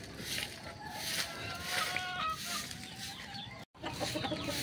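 A white kelso gamecock rooster clucks repeatedly at close range among other chickens at a cockfighting derby, with steady background commotion and a brief dropout near the end.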